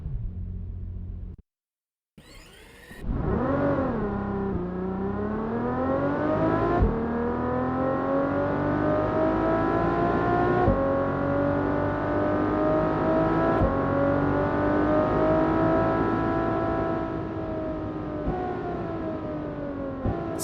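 Synthetic car engine drone made in GameSynth revving up in rising pitch sweeps, with several abrupt drops in pitch like gear changes, steady and loud throughout.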